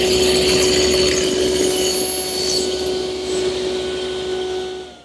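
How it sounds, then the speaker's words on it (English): A router table fitted with a 3/8 inch radius bit profiles the edges of 1/2 inch thick wood stock, giving a steady, loud, high-pitched whine with the cutting noise holding evenly throughout and tailing off at the end. "I've installed a 3/8 inch radius router bit in my router table."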